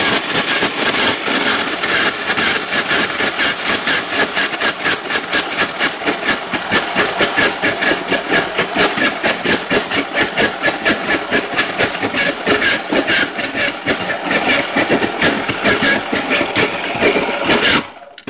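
Slushy machine running with a little ice left inside, a loud, continuous churning drone with a fast, regular grinding pulse that holds steady throughout.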